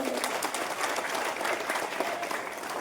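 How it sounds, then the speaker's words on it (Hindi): Applause from an audience of schoolchildren and guests at a school event in Muzaffarnagar during a Jyoti Kalash Rath Yatra visit, a brief burst of steady clapping filling a few seconds. "आप भाई साहब के लिए जोरदार ताली बजाएं"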